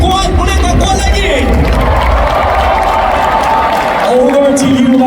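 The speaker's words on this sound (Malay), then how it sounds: "Boleh tak tuan-tuan dan puan-puan berikan satu lagi tepukan untuk mereka?" An audience at an Amway recognition rally in Kuala Lumpur and Selangor applauds and cheers in a loud, steady wash of clapping and crowd noise, with some voices mixed in.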